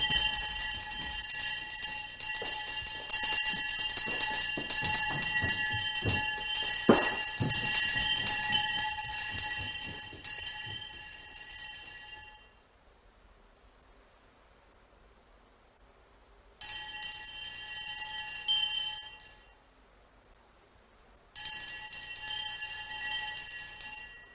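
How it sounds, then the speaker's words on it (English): A wake-up bell rings through a Zen monastery at four in the morning, with bright sustained metallic ringing in three bursts separated by near-silent gaps, heard alone without any voices. "The day of the training monks begins with the wake-up bell."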